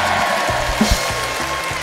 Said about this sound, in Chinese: 首先我们热烈掌声欢迎主场战队的嘉宾